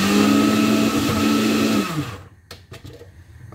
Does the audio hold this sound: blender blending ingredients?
yes